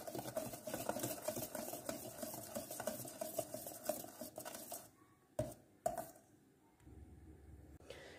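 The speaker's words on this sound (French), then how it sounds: "On va venir remuer la farine" Flour being stirred in a mixing bowl with a utensil, producing rhythmic scraping and light clinks for several seconds, then a couple of sharper knocks and quieter handling as the stirring stops.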